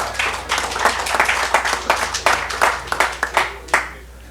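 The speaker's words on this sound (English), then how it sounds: "Give Scott Keller a round of applause." Applause from a small audience at an economic summit session, a few dozen sharp, separate claps close by in an uneven rhythm that thins out and stops after about four seconds.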